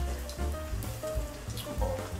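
Pork belly deep-fries in hot oil with a dense, steady crackling sizzle like heavy rain. Low voices murmur faintly underneath.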